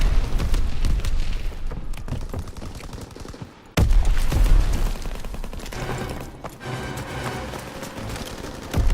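Mortar fire and explosions in Call of Duty WWII, with dense bursts of gunfire and heavy booms, a sharp loud blast near the middle, and chaotic battle noise continuing throughout.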